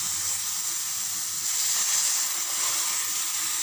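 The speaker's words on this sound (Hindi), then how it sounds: "चलिए अब हम इसमें डालेंगे मिल्क, जो कि मैंने लिया है 250 ग्राम।" Milk poured into hot roasted semolina in a pan, giving a steady bright hiss and sizzle that holds evenly for a few seconds, close and fairly loud, with no talk.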